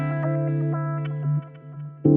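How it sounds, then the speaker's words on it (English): A guitar sequence run through an Axe-Fx processor with added delay, sustained notes ringing and trailing echoes overlapping, fairly quiet and close, ending with a fresh, louder note. "this kind of thing sounds very nice with a bit of added delay"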